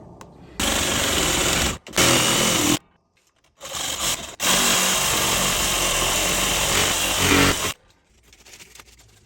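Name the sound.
cutting off an old air conditioner pipe with a saw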